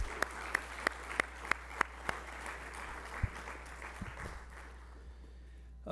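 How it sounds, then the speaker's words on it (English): A lecture audience gives a round of applause for the event organizer at a conservationist lecture; a few sharp distinct claps sound at first, then the applause thins and fades out by the end. "So maybe everybody could give him a round of applause for that."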